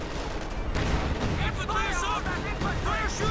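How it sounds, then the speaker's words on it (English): Sector artillery barrage in a World War II strategy video game, with a steady rumble of distant booms and blasts, dotted with whistling incoming shells, under a voice talking. "Oh man, sector artillery."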